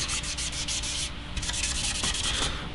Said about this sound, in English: I sanded with 400 and 320 on the scratches, then went over it with the steel wool